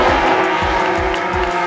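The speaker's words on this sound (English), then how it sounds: "That car spun way out of control on that circuit" A race car spins out of control on a circuit. Loud engine roar and squealing tires pulse in a repeating rhythm as the car slides around, close and continuous throughout.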